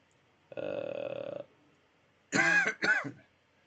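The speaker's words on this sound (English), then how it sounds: "Sorry about the cough." Two harsh coughs in quick succession, close and loud, preceded by a brief hum-like vocal sound, with quiet between.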